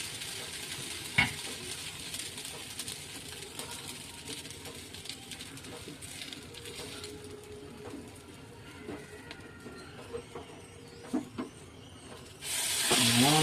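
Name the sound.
stuffed aloo kulcha frying on a pan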